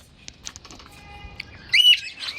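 Pigeons in a birdcage give soft chirps and short coos, with a brief flurry of louder calls and a possible wing flutter near the end, close by and with no speech.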